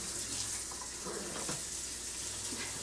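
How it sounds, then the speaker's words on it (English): Black beans are rinsed under a running kitchen tap in a sink, and the water gushes in a steady, close hiss with no break. "Rinsing off well, black beans."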